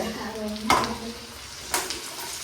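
Country chicken sautéing in a pan until golden brown, a steady close sizzle with two brief louder scrapes of stirring, briefly overlaid by a faint voice at the start.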